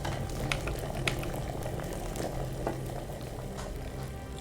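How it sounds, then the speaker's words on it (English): Thistle boils in an alchemy cauldron in the video game Kingdom Come: Deliverance, a steady bubbling and popping simmer with small irregular bursts, close and continuous. "Alright, thistle is boiling."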